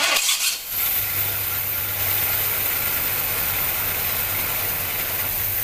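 A Pontiac Catalina V8 settles into a loping idle right after a brief opening burst, a steady low rumble with an uneven rhythmic beat, close and alone.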